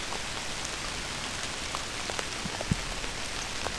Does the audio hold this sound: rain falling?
yes